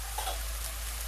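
Garlic, onion and ginger tadka for spinach dal sizzles steadily in hot oil, a close, constant frying hiss over a low hum, with no pauses.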